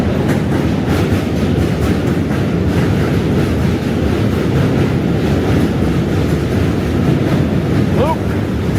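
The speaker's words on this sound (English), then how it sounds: "N Train." A New York City subway N train rumbles past loudly and continuously with rhythmic rail clatter and wind buffeting, heard up close from a bridge walk between Manhattan and Brooklyn.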